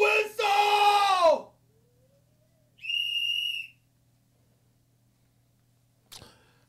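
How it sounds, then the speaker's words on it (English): A whistle is blown twice, first in a long loud shrill blast and then in a shorter one, with quiet gaps between and a brief soft sound near the end. "Little baby dog whistle!"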